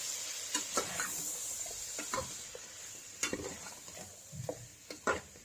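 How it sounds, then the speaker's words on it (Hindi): Chicken in kadai masala stirred in a sizzling pan, a steady frying hiss under irregular scrapes and knocks of the spoon against the pan, close and without talk. "इसके बाद इसको अच्छे से मिक्स कर लें"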